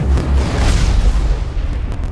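A rocket cannon explosion in the video game Mass Effect Legendary Edition hits with a loud, deep boom that rolls into a rumbling, noisy decay lasting about two seconds.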